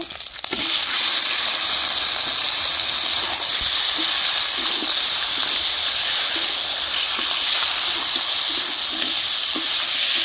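Chicken drops into a hot pan with ginger-garlic paste and fries with a loud, steady sizzle and hiss, with occasional stirring knocks beneath the continuous crackle.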